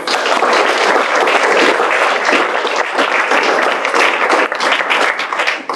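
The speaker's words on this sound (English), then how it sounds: "one more round of applause." A school board meeting audience gives a loud, steady round of applause, dense close clapping that holds at full strength throughout with no speech over it.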